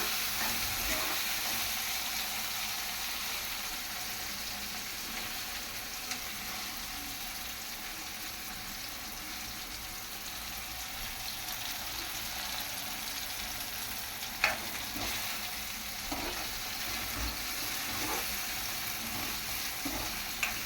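Chopped tomato frying in a pan on the stove, giving a steady, close sizzle and crackle of oil that holds evenly throughout, with a few faint clinks and stirring sounds and no talking.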